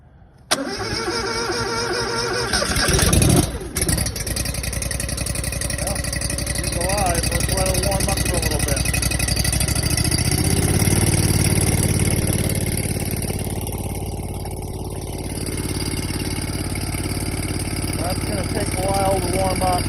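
A fuel-injected engine cranks and catches, then settles into a steady, loud idle with only a slight rev, close by, with faint voices in the background.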